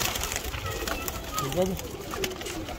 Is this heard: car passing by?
no